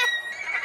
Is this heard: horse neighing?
yes